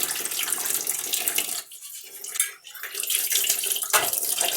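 Brass pooja vessels washed under a running tap: a loud, close rush of water with splashing and brief dips where the flow is interrupted or moved, no talking.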